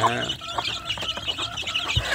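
Half-grown free-range village chicks cluck and peep in a quick, busy chatter at close range, with faint talk in the background.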